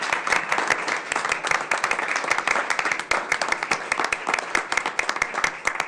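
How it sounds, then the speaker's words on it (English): Applause at a city council meeting, a moderate group clapping in distinct, closely packed strikes that stay strong and steady throughout, close and clear with no talk over it. "I think that's worth a round of applause."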